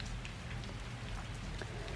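Steady rain falls in a dense, even hiss with scattered soft drops pattering on a surface, constant and fairly quiet, with no voices.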